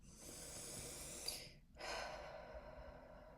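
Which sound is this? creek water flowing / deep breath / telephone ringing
deep breath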